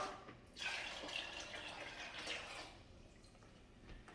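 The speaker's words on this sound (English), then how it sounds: "We got to add 2 quarts of water." Two quarts of water splash and run steadily into a pot of soaked northern beans for a few seconds, a soft close pouring sound that tapers off near the end.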